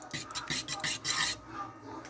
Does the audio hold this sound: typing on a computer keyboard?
no